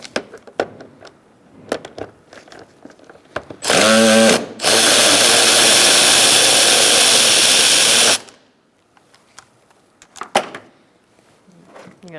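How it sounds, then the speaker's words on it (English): A power ratchet or drill spins out two bolts with a 10mm socket on a 2002-2006 Toyota Camry during a transmission mount job: a short whirring burst, a brief pause, then a longer steady run, with clinks and handling noises around them. "Now we're going to take out these 2 bolts using a 10mm socket."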